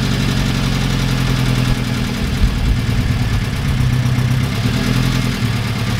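A 1969 Ford Capri engine idles steadily in fourth gear, close by, a constant low rumbling drone with no talking.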